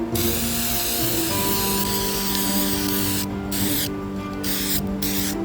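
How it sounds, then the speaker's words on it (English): Continuous hiss of a spray can laying clear coat over a painted fingerboard, steady and close, with a few brief pauses between bursts near the end. "now I'm gonna do some clear coating"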